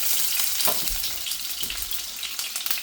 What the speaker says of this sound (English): Now I'm going to pull out just a little bit of garlic and throw into